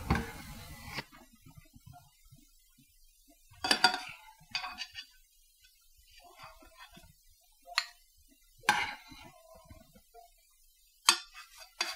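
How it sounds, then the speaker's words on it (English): Utensils lift whole spices out of a pot of simmered pumpkin spice syrup, giving a handful of sparse, sharp clinks and taps spaced several seconds apart against a quiet background. "I'm going to go ahead and take out all my spices."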